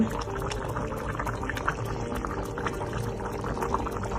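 A pot of fish curry with tamarind bubbles steadily at a rolling boil, with dense popping and gurgling that continues without pause, close and fairly loud.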